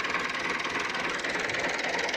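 A small three-cylinder tractor engine runs steadily at close range, giving a continuous rough, knocking drone on a dairy farm field being cleared of bricks.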